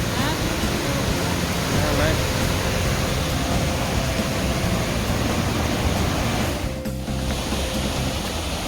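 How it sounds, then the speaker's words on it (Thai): Steady roaring rush of a waterfall in the Swiss Alps, a continuous broadband wash with no breaks, loud and close throughout. "เสียงน้ำตกเนาะ"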